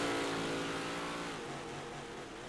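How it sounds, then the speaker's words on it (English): A race car engine from a racing simulator drones steadily at low volume, holding a continuous revving tone with a slight pitch drop partway through, heard alone during a Big Block Modified series sim race. "we can keep the car sounds way lower than we can the microphone for sure"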